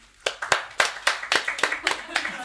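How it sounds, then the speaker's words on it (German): Scattered clapping from a small stand-up comedy show crowd, a dozen or so distinct sharp claps in an uneven rhythm, fairly close and loud, with no sustained ovation. "Wer von euch war schon mal hier? Mal Applaus."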